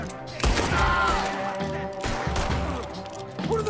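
Gunfire in the video game Red Dead Redemption 2 sounds during a gunfight, with a few heavy shots booming over a dense, rumbling battle background and ringing tones.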